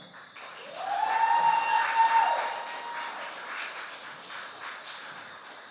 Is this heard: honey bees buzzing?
no